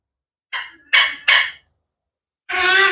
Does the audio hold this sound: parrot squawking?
yes